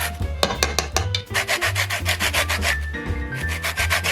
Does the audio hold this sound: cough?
no